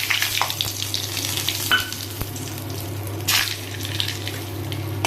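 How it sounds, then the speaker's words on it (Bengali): Bay leaves and whole garam masala sizzling in hot oil in a wok, a continuous crackle with occasional utensil taps and brief spatters, close and without speech. "কড়াইয়ে তেল গরম হয়ে গেছে, এবার এর মধ্যে আমি গরম মশলা আর তেজপাতা দিয়ে দিতেছি।"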